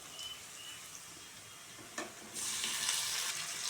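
Green chilli and tomato going into a pan of browned onions, a soft continuous sizzle that swells louder partway through after a brief clatter, with no voices.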